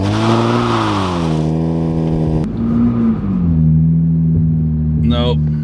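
A 2023 Nissan Z Proto Spec revs hard in first gear during a burnout attempt, its loud engine note rising, dipping and holding steady up close, with voices talking over it.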